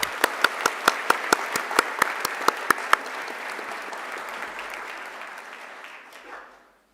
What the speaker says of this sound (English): Let's join and applaud and thank Katrina once again.